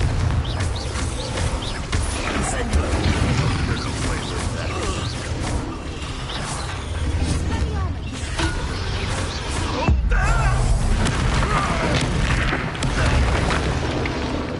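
A Confringo spell explosion in Hogwarts Legacy sets off a dense, continuous roar of booming blasts and rumbling debris, loud and sustained throughout with no pause.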